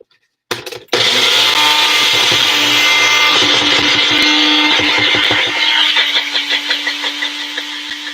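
After a brief click, a bullet blender roars loudly and continuously, its motor churning and grinding chunks before the pitch settles into a steadier whir.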